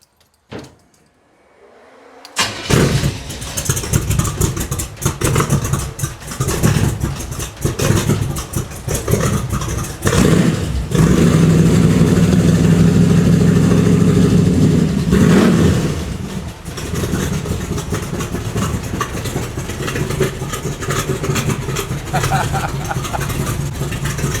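An old truck engine, partly from a 1927 truck, cranks and catches, then settles into a loud, steady rumbling idle with a brief rev in the middle, voices talking underneath.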